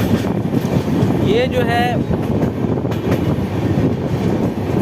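Humsafar Express train runs near Muzaffarpur across a bridge, a steady close rumble mixed with wind buffeting, while someone briefly speaks over it.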